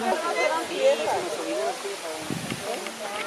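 The El Naranjal River near Omealca, Veracruz, Mexico, rushes in a steady broadband wash beneath a person talking in the foreground.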